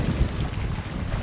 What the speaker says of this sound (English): But another windy day on Lake Champlain.